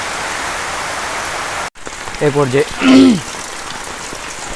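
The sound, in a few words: rain falling in a village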